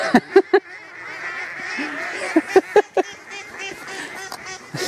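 A huge flock of ducks or geese on a night-time pond keeps up a noisy wall of calls, punctuated by loud nearby honks in clusters at the start and middle.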